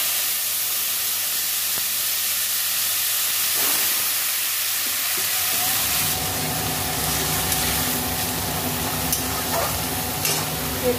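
Radish greens hitting a hot pan for a radish greens and eggplant dish, with a steady broad frying sizzle that thickens and grows busier partway through, plus occasional stirring scrapes, close and continuous with no talking.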